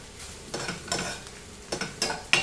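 Onions frying golden brown in a pan for egg xacuti, with a spatula scraping and stirring in several close, uneven strokes over a soft sizzle.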